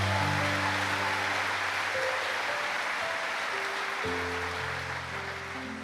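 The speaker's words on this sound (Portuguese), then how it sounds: "Quem fez o propósito, dá uma salva de palmas bem forte a Jesus." Church congregation applauding together in a sustained wash of clapping throughout, with steady organ or keyboard chords sounding underneath and shifting midway.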